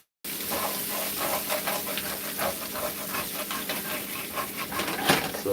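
Tofu and potatoes sear in a pan, a close crackling sizzle with scattered pops and spits over a steady hiss, no talking.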